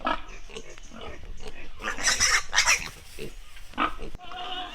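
Pigs and piglets on a pig farm in Assam, a busy chorus of close grunts, squeals and snorts overlapping throughout, loud and lively, ending with a sharp knock.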